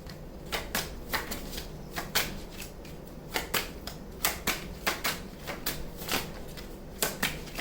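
A tarot deck is shuffled close by, giving crisp, irregular clicks and flicks of cards slapping together over a soft background, with no talking.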